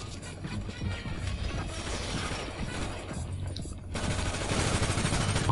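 Gunfire in GTA 5 plays in rapid bursts of shots with mechanical clatter and impacts, sounding at a moderate distance in a busy, noisy game mix.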